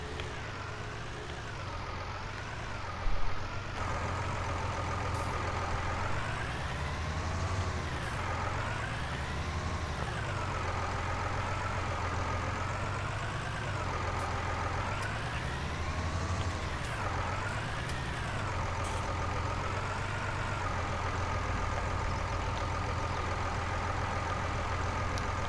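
A tractor engine runs steadily throughout, a loud low diesel drone with slowly wavering pitch as the revs rise and fall, continuous and close with no talk.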